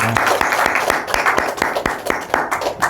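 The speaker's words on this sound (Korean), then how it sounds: "하나님께 영광의 박수 올려드리십시다" A church congregation claps during a Korean worship service, with distinct, fairly rhythmic hand claps close by over a thinner spread of clapping around them.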